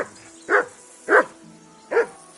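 A dog in Kingdom Come: Deliverance 2 gives three evenly spaced, sharp barks, fairly close and loud against a quiet background.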